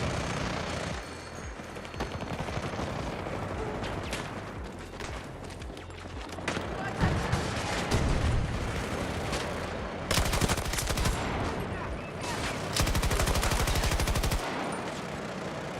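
Rapid automatic gunfire in a Battlefield video game, fired out of a window in long loud sustained bursts with brief pauses, dense and close, almost no talk over it.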